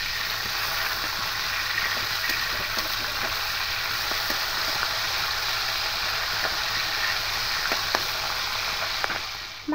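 Hot oil sizzling around pomfret fish as they fry, a continuous even hiss with scattered small pops and spits, close by and unbroken by any voices.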